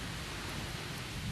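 Heavy rain pouring outside at night, a steady dense wash of drops with a low rumbling undertone, continuous and fairly loud throughout with no voices.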